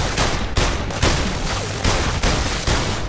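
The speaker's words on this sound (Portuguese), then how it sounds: "Nossa, que tiro, que headshot!" Rapid bursts of gunfire from the VR shooting game London Heist on PlayStation VR, loud repeated volleys of shots with sharp onsets at irregular intervals and no speech.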